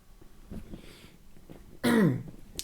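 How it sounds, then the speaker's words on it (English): A man coughs and clears his throat: soft throaty rasps first, then one loud, harsh cough burst near the end, close to the microphone. "I'm gonna have to cough or something."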